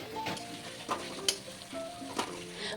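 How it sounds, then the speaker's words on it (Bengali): Chopped onions, eight to ten medium ones, fry in oil over a medium flame with a steady close sizzle, broken by a few sharper crackles and stirring clicks. "খুব ভালো করে পেঁয়াজগুলোকে তেলে দিয়ে মিডিয়াম ফ্লেমে আস্তে আস্তে পেঁয়াজগুলোকে ভাজতে হবে"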